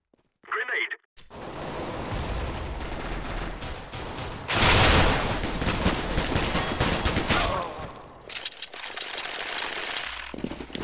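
Dense CS:GO gunfire crackles in rapid automatic bursts, loud and close, with a short isolated burst at the start, then sustained firing that swells into a heavier volley midway and continues in rattling bursts to the end.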